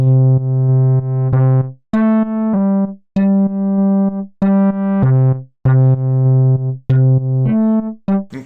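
Europa synth bass from a bass guitar preset in Reason 11, played without the chord player: a loud, plain run of short, clipped bass notes in a bouncy rhythm, heard alone, each note ending sharply.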